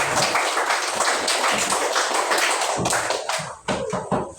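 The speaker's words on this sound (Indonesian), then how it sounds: "Iya, tepuk tangan." Children in a classroom clap their hands together in a steady, lively round of applause that continues for several seconds before tapering off.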